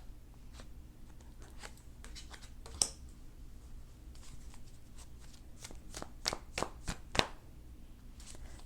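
Tarot cards shuffled and drawn during a reading, with soft riffling and sliding of the deck followed by a few sharper snaps and flicks as cards are laid down, quiet and close with no talking.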